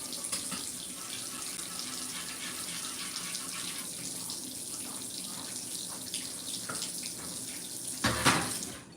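Hands wash under a running kitchen tap, a steady close stream of water with a louder splashing surge just before it stops, no talking.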